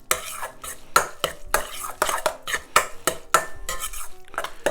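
Stuffed mushroom cap filling with flat leaf parsley being stirred in a bowl, rhythmic scraping strokes of a utensil against the bowl, close and fairly loud, repeating every half second or so, no speech.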